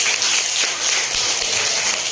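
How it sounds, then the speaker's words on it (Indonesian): Classmates in a classroom clap together in a loud, dense burst that fills the short moment evenly, with no voices over it. "Tepuk tangan temennya itu maksudnya ya"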